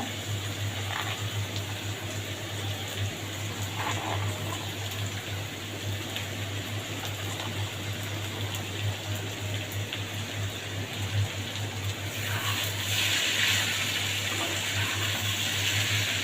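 Okra (bhindi) frying in a pan beside a simmering curry with pabda fish and taro: a steady, close sizzle and crackle runs throughout, rising slightly toward the end, with no voices.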